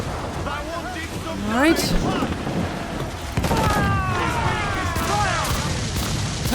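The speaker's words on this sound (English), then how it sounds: "And let's give them a nice broadside. And another mortar." Ship cannon broadside and mortar fire during a naval battle in Assassin's Creed Black Flag, heavy booms and rumbling blasts layered with game effects, with someone briefly speaking over it.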